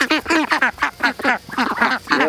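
Ducks in a backyard chicken tractor quack close and loud in a rapid series of about ten nasal calls, irregularly spaced and sometimes overlapping.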